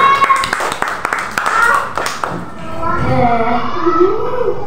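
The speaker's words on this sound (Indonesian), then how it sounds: "Wih, tepuk tangan Jerby." A sixth-grade class claps hands together in a burst of quick claps, then children's voices take over with chatter and exclamations.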